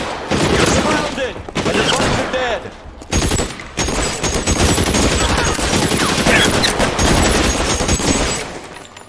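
Loud Thompson submachine gun fire in the 1940s crime game L.A. Noire, long rapid bursts separated by brief pauses, with voices mixed in beneath the shooting.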